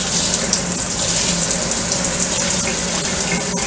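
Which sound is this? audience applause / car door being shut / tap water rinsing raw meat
tap water rinsing raw meat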